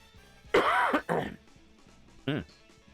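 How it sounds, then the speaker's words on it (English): Two or three harsh, close coughing bursts from one person with a lingering cough, the first long and loud, then a shorter one and a brief final hack, over a quiet indoor background. "Still have a bit of a cough."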